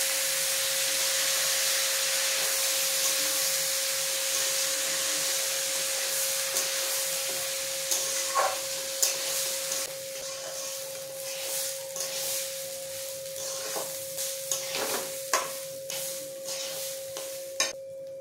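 Soaked Gobindobhog rice fries in a pan for basanti pulao, giving a steady hiss and sizzle under a constant tone, with a spatula scraping and clinking against the pan more often toward the end.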